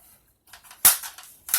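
A Dart Zone Renegade foam dart shotgun fires two sharp, snappy shots a little over half a second apart, close and loud, with a faint click of handling before them.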